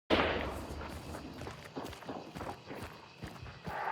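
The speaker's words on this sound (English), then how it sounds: "And then you hear his footsteps, and then you don't hear his footsteps." An enemy player's footsteps in Hunt: Showdown sound as a series of quiet, irregular steps that tread and thud against a hissing ambient background, fairly faint and nearby.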